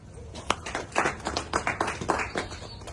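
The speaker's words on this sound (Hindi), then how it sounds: "तालियों से प्रकाश जी का स्वागत कराएं।" A crowd applauds with scattered, uneven claps, moderately loud and continuous.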